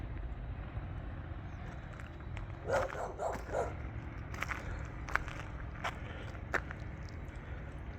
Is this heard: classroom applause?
no